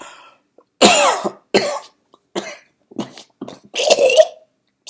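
A man coughs repeatedly in bursts, about six harsh close coughs and throat-clearing sounds with short silent gaps between them, the last one longer and rougher.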